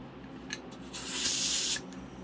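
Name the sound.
air compressor starting to blow air from nozzle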